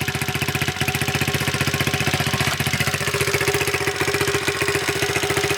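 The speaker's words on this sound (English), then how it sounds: "that little gentle kick is enough to get this engine running" A 125cc 12-volt Lifan engine swapped into a Honda CT70 minibike idles steadily after a kick start, a close, even, rapid putter with a slight metallic knock and no voices.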